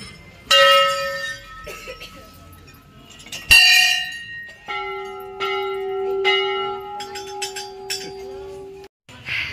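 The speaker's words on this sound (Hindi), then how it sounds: "मैं तुम्हें दिखा रही हूँ एंट्री के बाद का जो भी है, जितनी भी घंटियाँ।" Temple bells being rung, several sharp metallic strikes, each followed by a long, bright ringing tone that sustains and overlaps, with a few lighter clinks between them, close and loud.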